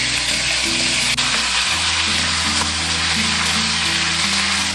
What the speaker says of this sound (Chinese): 煎鸡肉的时候一定要先皮朝下啊